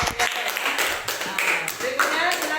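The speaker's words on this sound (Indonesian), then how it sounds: "Oke, tepuk tangan untuk kelompok." Classroom applause for a student group during a religious studies lesson, a steady patter of claps across the room mixed with overlapping chatter and voices.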